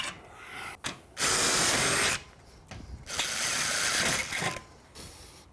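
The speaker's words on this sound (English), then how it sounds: "We're going to pre-drill in a few locations" A power drill whirs in several bursts, pre-drilling holes in wood for 3-inch screws, starting and stopping with brief pauses between runs, close up and fairly loud.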